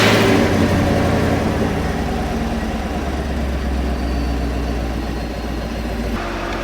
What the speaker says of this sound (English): Turn on the vehicle for me real quick.